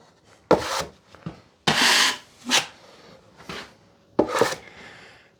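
Five or six scraping strokes of a taping knife smoothing joint compound across drywall, each a short raspy swipe separated by pauses, close and fairly quiet, with no talk.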